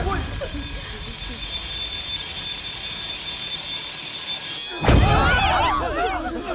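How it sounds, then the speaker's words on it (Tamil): An electric bell rings inside a theater: a loud, continuous, steady tone lasting several seconds that cuts off abruptly, followed by people talking. "இப்படி ஏதாவது தியேட்டருக்குள்ள நடக்கும்போது தோ இந்த பெல் அடிக்கும்"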